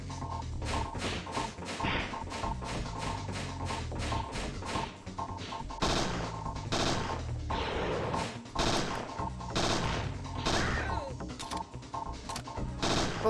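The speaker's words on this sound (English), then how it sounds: "need to do a bit of extra shooting" Rapid gunfire in Parasite Eve 2: a dense run of loud, sharp shots and crashing impacts repeating almost without pause for the whole stretch.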